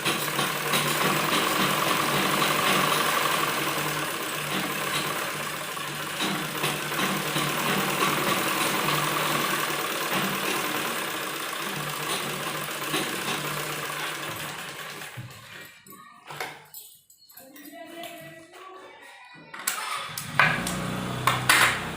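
A sewing machine runs a double row of stitching across a seam on men's underwear, a loud continuous mechanical whir and clatter for most of the time, then cutting out into short bursts and quieter handling sounds.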